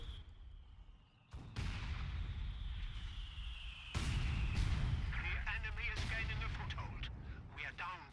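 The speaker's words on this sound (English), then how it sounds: "Being supported by this mortar half-track from the Festung support doctrine from Casimir" Mortar half-track firing in the Company of Heroes video game, with sharp booming launches and explosions over a constant rumbling battle din, close and loud.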